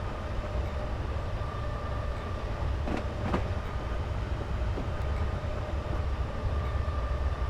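A Southern Class 421 electric multiple unit runs along the London to Brighton line in Train Simulator, giving a steady, loud rumble with faint rail clicks and brief metallic taps around the middle.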